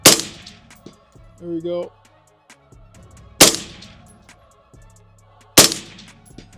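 A general-purpose rifle fitted with a suppressor fires three sharp shots at a range, spaced a few seconds apart, each with a short echoing tail. A metallic ring sounds between the first two shots, and someone speaks briefly.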